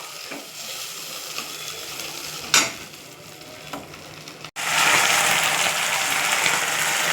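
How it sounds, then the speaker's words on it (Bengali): Spices with ginger paste fry in a pan, a soft sizzle and occasional stirring scrapes, then a splash of water hits the hot pan and the sizzle swells into a loud, steady hiss. "মশলা কষানোর জন্য অল্প জল দিয়ে দিলাম।"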